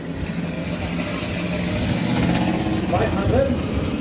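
A drift car with a Toyota 1GZ engine making about 500 horsepower runs at the Hungaroring during a drift competition. Its engine drones and revs continuously under a commentator's voice.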